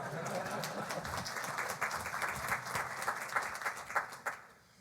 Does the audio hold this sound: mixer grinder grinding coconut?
no